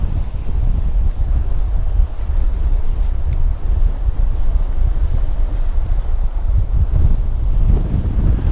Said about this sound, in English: Wind's getting up stronger and bloody stronger.